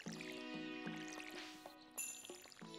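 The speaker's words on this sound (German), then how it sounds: "Mal gießen hier alles." Watering crops with a watering can in Stardew Valley: a few short splashy pours repeat at an even pace, layered under light, bright game music and chimes, fairly quiet overall.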